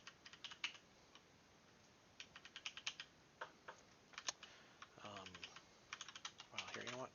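Quiet, irregular bursts of computer keyboard typing, with clustered clicks and pauses between, at close range. In the background a voice speaks softly, and there is faint low rumble.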